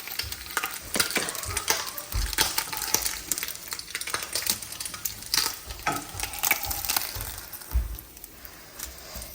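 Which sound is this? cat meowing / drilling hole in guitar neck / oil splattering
oil splattering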